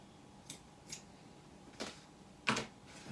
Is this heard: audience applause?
no